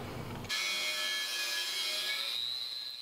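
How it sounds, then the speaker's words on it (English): A flap disc on an angle grinder sands down a fresh weld on a steel rock ring or beadlock, giving a loud, continuous abrasive grinding whine close up after a brief lower rumble at the start. "Next thing to do is to sand this down after it's cool a little bit. I'm gonna do that just with a flap disc."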